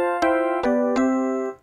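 Korg D1 digital piano played completely dry with reverb and chorus switched off, three struck chords with crisp attacks and short sustain, close and unaccompanied, cutting off abruptly at the end.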